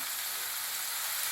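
Minced meat and onion fry in a hot pan with a dense, constant sizzle that stays loud and even throughout, with no voices.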